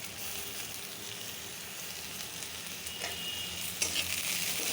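Dried fish (shidol, chepa shutki) frying with onion, green chili and ginger, a soft, even crackling sizzle that holds steady and swells slightly near the end, heard alone at low volume.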